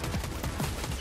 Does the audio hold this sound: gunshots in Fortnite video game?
yes